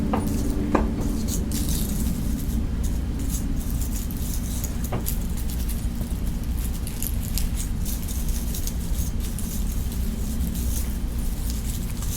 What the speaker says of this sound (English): Y'all hear all the trucks and stuff.